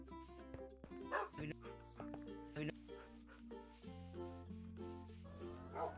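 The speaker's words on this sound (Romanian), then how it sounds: "Să las cățelușul aici cu ceilalți." A puppy in a video game yipping and barking in quick short bursts over a busy layer of tonal game music and effects, fairly faint overall.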